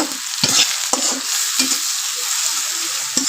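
Chopped onions sizzle in hot oil in a pan for a kholisha fish curry, a steady frying hiss broken by several sharp stirring scrapes and clacks, close and without speech.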